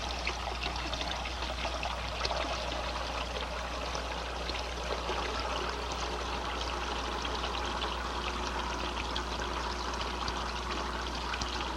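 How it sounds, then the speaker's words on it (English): Water streams and trickles steadily at close range as it bleeds from a manifold in a fluid-flow demonstration, a constant splashing flow with no pauses. "I'll reduce the volume flow at successive sections by bleeding water from the manifold."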